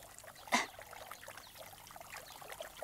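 Water trickles and dribbles into a cup in a calm, soft stream behind a faint background, with one brief sharper clink early on and no talking.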